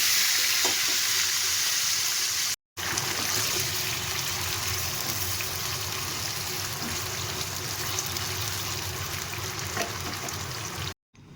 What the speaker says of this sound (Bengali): এখন এই আলুটাকে আমি একটু ভালো করে ফ্রাই করে উঠিয়ে রাখবো